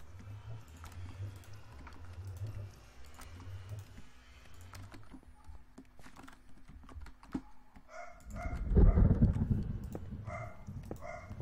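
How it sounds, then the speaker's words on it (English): A dog barks outside on a porch, a loud burst of several barks near the end, heard from indoors over steady computer keyboard typing that fills the rest. "I'm getting sick of hearing his fucking bark."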